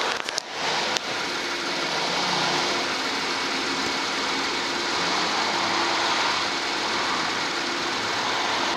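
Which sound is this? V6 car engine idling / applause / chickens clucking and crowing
V6 car engine idling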